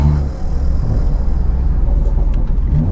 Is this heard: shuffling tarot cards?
no